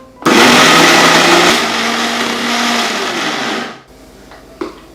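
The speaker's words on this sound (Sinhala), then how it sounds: "දැන් ආයි මම මේක බ්ලෙන්ඩ් කරගන්නවා" A blender whirs loudly and steadily while blending homemade cream cheese, running close up for about three and a half seconds before cutting off, followed by a faint clink.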